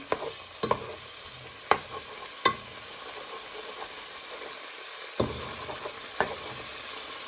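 Pork pieces fry in a pot while being stirred to brown, a continuous soft sizzle broken by several sharp utensil knocks and scrapes at irregular intervals, with no voices.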